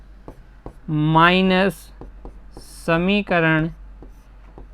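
A pen scratches out a math equation by hand in short, soft strokes and taps, close by, between stretches of someone speaking.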